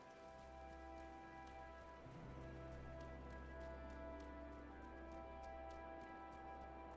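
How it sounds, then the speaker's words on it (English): Steady pouring rain in the Wylde Flowers farming game, a continuous dense patter over a low hum with music tones, even and unbroken throughout. "it just started pouring rain"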